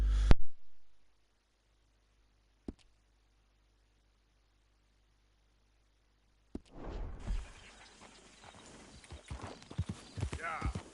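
Horse hooves in Red Dead Redemption 2 break into a quick clip-clop near the end after long near-silence, with a sharp thud earlier and a brief burst of noise at the start; fairly faint and short.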